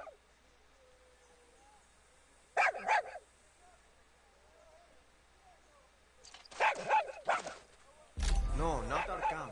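A dog in Far Cry 6 barks and yips in short bursts, one early cluster and a longer flurry later, with quiet game ambience in between and a voice starting to speak at the end.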